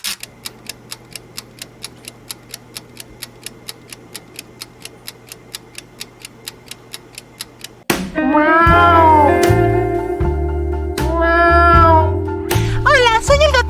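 A cat named Vainilla meows several times in a row, loud and close, with drawn-out rising and falling calls. Steady clock ticking comes before the meows.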